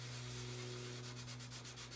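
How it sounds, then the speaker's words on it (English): Hand sanding of a ukulele's surface, a soft, steady scratchy rubbing heard close and quiet over a low constant hum. "So I'm sanding it down"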